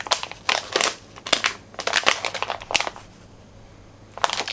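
Crinkly plastic packaging of a Pat McGrath mini eyeshadow palette is crumpled and torn in bursts of close, crackling rustles with brief pauses between.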